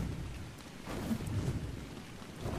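Steady rain and rumbling thunder fill the air while a wyvern flies in the video game Ark, a dense continuous wash with low swells and no voices.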